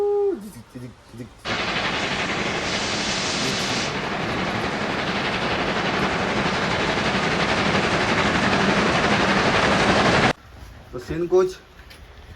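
Old British-era train running on rails near Digboi, a steady loud rumble with rattling that fills most of the clip, cutting off near the end, with someone talking briefly before and after.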